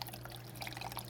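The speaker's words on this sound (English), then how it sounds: "you just need to pour some water down here" Water poured into an Emperor Pro 450 aquarium filter, a soft continuous splashing trickle over a steady low hum, close and fairly quiet.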